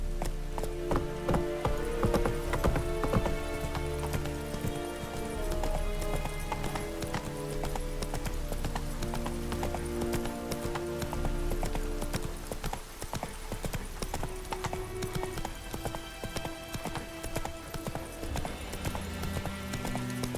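Horse hooves clip-clop at a steady galloping rhythm in The Witcher 3, close and continuous over layered game music and ambience, with an occasional whinny.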